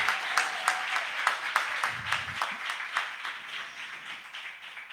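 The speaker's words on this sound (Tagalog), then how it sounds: "pumalakpak muna sa ating mahal na Panginoon." A congregation at a church service claps together in quick, even rhythm, a steady run of sharp hand claps that stays moderately loud throughout, with a brief low rumble near the middle.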